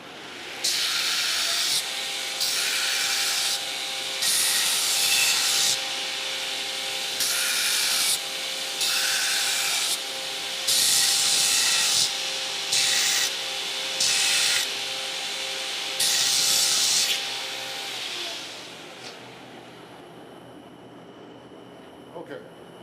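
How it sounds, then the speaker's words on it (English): Forged metal ground back on a grinder in a blacksmith's shop: loud harsh grinding in repeated bursts of a few seconds each over a steady motor whine, then the machine winds down and quiets. "I'll come over to the grinder and grind it back"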